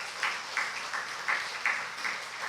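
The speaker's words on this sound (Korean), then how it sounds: "둘로스 조각에게 큰 박수 한번 해주셨으면 좋겠습니다." A church congregation claps together at a service in a rhythmic, evenly spaced burst of applause, moderately loud and steady, with no speech over it.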